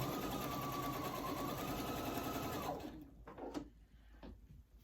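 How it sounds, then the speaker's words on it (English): A sewing machine stitches quilt binding, running forward and backward in a steady, close mechanical whir that stops abruptly, leaving a few soft clicks and handling noises. "I am going to sew forward and then backward again, and then start stitching"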